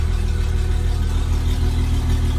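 A Pro-Line 22 Sport boat engine idles steadily and loudly close by, a constant low mechanical drone with no change in pitch and no voices.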